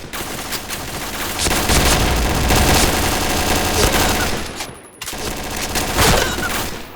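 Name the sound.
gunfire in the video game Point Blank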